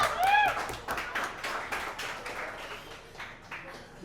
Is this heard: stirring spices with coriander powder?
no